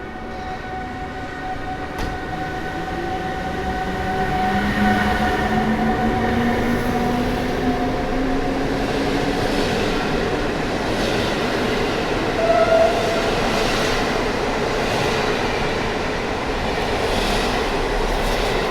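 An EU160 electric train pulls out of Warszawa Zachodnia station, a sustained loud rumble and rising motor whine with wheels rolling over the rails.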